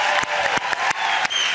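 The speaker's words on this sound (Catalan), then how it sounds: "Aplaudiment per ell," A studio audience on the Catalan TV game show Tot o res claps for a departing contestant. The close, dense applause is broken by several sharp louder claps across the short burst.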